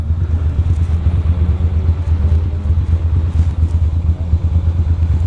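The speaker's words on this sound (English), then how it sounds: "I hear some motorcycles around." Motorcycles rumble through a city street with a continuous, loud low engine drone and some clatter, heard close without any talking.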